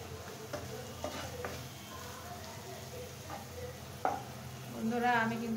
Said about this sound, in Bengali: আমি এই ঝাল পেঁয়াজ আর এই মাছটা যতক্ষণ ফ্রাই হবে ততক্ষণ ফ্রাই করে